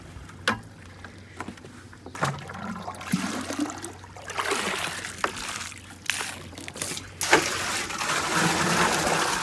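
Water running into a 5-gallon Lowe's bucket outdoors, a steady splashing and trickling stream with scattered knocks and sloshes that grows fuller and louder toward the end.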